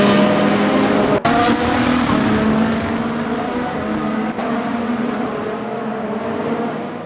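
Formula 1 race cars at the 2024 Bahrain Grand Prix, a loud continuous engine roar with a steady high whine that holds for the whole stretch, with a couple of brief dips, and no voices.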